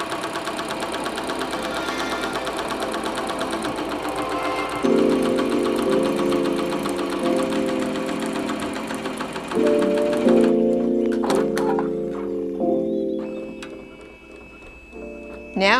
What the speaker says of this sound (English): Now we're going to put it back onto the machine. Now it's doing the applique stitches around the heart.